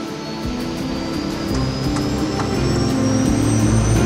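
Airliner jet engines spooling up to takeoff thrust, a steady loud roar with a rising whine that builds slowly and continuously.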